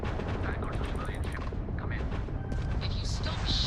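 Spaceship weapons firing in a space combat scene in Starfield, a dense, continuous barrage of rapid blasts and booms filling the clip, with voices talking over the gunfire.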